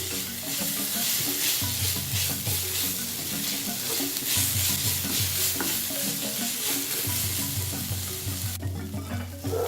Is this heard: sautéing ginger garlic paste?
yes